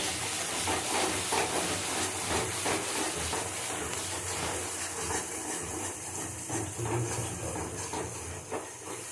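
A ground paste of whole dry red chillies and cumin fries hard in a pan for a bhetki fish-bone chorchori, making a dense, close, unbroken hiss and sizzle with no voices.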